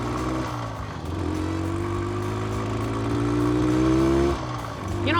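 An old single-cylinder motorcycle rides slowly, its engine thumping steadily up close with a modest rise in pitch and loudness before easing off.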